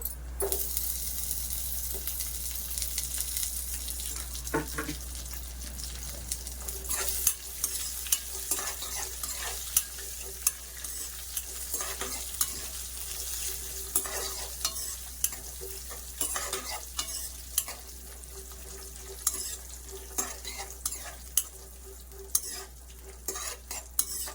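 Raisins fry in a pan while being stirred for rava kesari, a sweet semolina dish: a steady close sizzle with repeated scraping strokes of a spoon against the pan, no talking.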